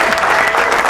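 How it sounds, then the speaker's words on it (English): A brief, loud burst of close audience applause at a vintage show, dense clapping for under a second. "let's give her a big round of applause"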